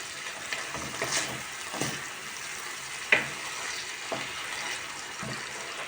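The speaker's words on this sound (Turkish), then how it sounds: "Şimdi güzelce kavuruyoruz." Rice with salt sautés in a pan on a home stove, a soft steady sizzle broken by several distinct scraping stirs and clinks of the spoon against the pan, close and fairly quiet.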